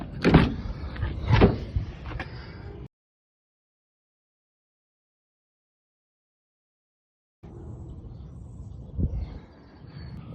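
The power window motor of a 1998 Honda Prelude base model whirs for a few seconds, breaks off into silence, then runs again, close up inside the car.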